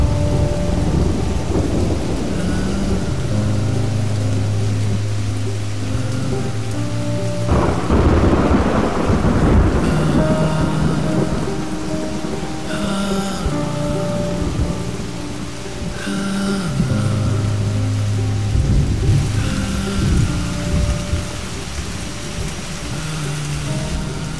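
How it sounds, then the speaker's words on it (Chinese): Heavy rain pours steadily while rolls of thunder rumble loudly through the downpour, with one sharp crack partway through. "我就说吧，肯定会是倾盆大雨。"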